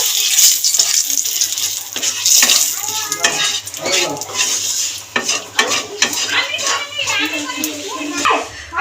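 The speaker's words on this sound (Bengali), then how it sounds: "গরম তেলের মধ্যে ফোড়ন দিয়ে দেবো গোটা সাদা জিরে দুটো এলাচ ফোড়নটা ভেজে নিয়েছি তার সাথে দুটো তেজপাতাও দিয়ে দেবো" Whole cumin seeds, two cardamom pods and two bay leaves sputtering in hot oil for a Bengali fish curry, close crackling and popping with clinks of a spoon, while someone talks over it.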